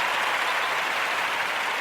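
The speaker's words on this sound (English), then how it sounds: "We want to give her a round of applause." Audience applause at a live talk event, a short burst of steady, even clapping that stays loud from start to finish.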